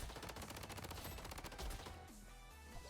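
An Uzi submachine gun fires in rapid, evenly spaced automatic bursts in the shooter game Blood Strike, loud and close for about two seconds before the shooting stops. No one speaks.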